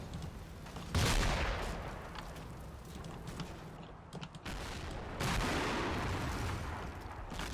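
Mortar fire in a combat video game, with deep muffled booms and crackling impacts landing at a distance in a few heavy bursts over a constant rumbling battlefield backdrop, with no talk.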